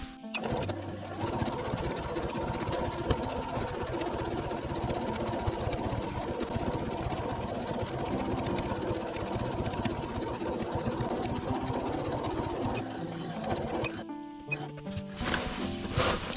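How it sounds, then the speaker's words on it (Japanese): A sewing machine runs steadily, stitching a straight 1 cm seam along the top of a fabric storage box with handles attached, with a continuous mechanical hum that stops near the end, followed by a brief clatter. "ここまっすぐ上ばっかしを1センチの縫い代で縫っていきます"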